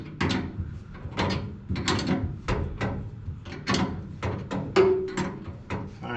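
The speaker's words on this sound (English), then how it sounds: "Alright guys, I already got a ratchet instead of using that old wrench" A hand ratchet clicks in repeated short bursts while loosening a bolt on a car, close and clear, with a steady rhythm of strokes and brief gaps between them.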